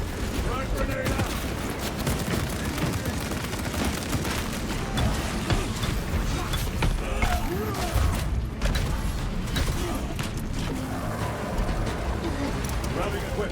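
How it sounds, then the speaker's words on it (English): Dense, continuous gunfire and explosive blasts from a frag grenade fill a battle in Warhammer 40K Space Marine 2. The fighting stays loud throughout, with voices mixed into the combat noise. "Frag grenade out!"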